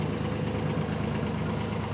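A vehicle engine idling steadily while it warms up before moving, a close, even low rumble with a faint knocking pulse and nothing else over it.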